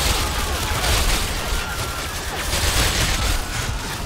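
Dense, continuous gunfire from the PC version of Modern Warfare 2 in a Russia mission, a steady roar of overlapping shots and bursts filling the whole stretch at high loudness.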